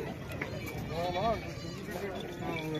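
Goats bleat at a busy livestock fair in Punjab where breeders show their animals. A few wavering bleats rise over steady crowd noise while people talk nearby.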